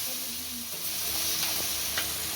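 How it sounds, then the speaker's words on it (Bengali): Pointed gourd curry with chopped tomato being stirred in a pan, a steady sizzle of oil under soft scraping strokes, close and fairly loud throughout, no voices. "এবার খুব ভালোভাবে নাড়িয়ে নেব"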